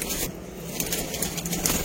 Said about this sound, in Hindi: सेम ब्लड दे विच दोस्तों 6 कबूतर ने